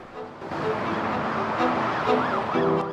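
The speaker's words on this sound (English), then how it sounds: "A police car joins the motorway from a slip road." A police car siren wails over steady UK motorway traffic as it joins from a slip road, its rising and falling tone repeating in the distance, fairly loud against the road rumble.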